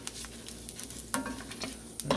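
Paella rice is stirred in hot oil in a cast iron enamel pan. A faint sizzle runs throughout while a utensil scrapes and clicks against the pan in several irregular strokes, close by and with no talking.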